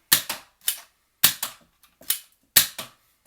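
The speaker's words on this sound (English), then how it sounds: "Let's just shoot each of the blasters, see if we can get successful shots with each of them." Several Nerf blasters fire Elite foam darts at a wall in close succession, giving sharp, loud snapping pops in quick pairs and triplets with brief gaps between the volleys and no talking.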